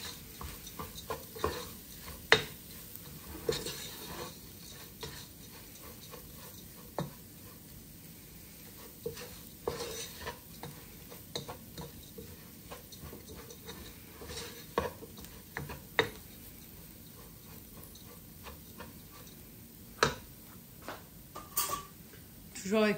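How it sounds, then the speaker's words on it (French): Bulgur toasting in a pan on the stove, with scattered spoon scrapes and clicks over a low sizzle, close and fairly quiet, while someone talks over it. "Je laisse toujours un petit peu sur le feu avant de rajouter l'eau."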